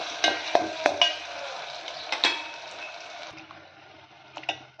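Crushed chili is stirred into eggplant oro (baingan bharta) in a hot pan, with close scraping stir strokes over a soft sizzle that fades toward the end.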